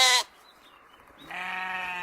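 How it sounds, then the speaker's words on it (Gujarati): A sheep bleats twice, a short loud cry followed after a pause by a longer, steadier bleat, close and with no talking. "ઘેટું, SHEEP, શીપ એટલે ઘેટું. ઘેટું કેવું બોલે છે?"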